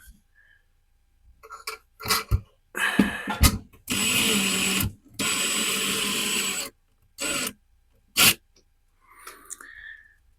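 A power screwdriver drives a screw into a drywall anchor while a corner bath cabinet is assembled, several short whirring bursts of varying length separated by pauses, close and fairly loud.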